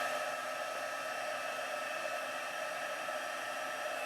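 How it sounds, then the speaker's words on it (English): A heat tool blows hot air over white embossing powder in a steady, close, even whoosh with no breaks. "I'm going to go ahead and heat emboss this."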